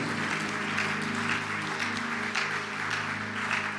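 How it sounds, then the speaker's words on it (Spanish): Congregation applauding at a Spanish-language church service, a steady wash of clapping across the whole stretch, with sustained music or organ tones humming underneath. "Dale fuerte el aplauso al Señor"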